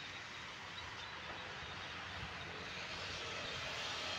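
A diesel train, a special suburban feeder service between Nakhon Pathom and Thonburi in Thailand, rumbles past a level crossing and halt with a steady, droning engine roar that holds even throughout, moderately close.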